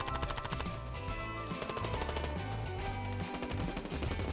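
Rapid automatic gunfire in the Standoff 2 shooter game, dense bursts of shots crackling loudly and continuously with no pauses.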